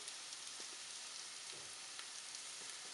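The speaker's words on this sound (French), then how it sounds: "je vais faire revenir le riz" Arborio rice toasts in a pan with a soft, steady sizzle and scattered faint crackles, quiet and close, with no one talking.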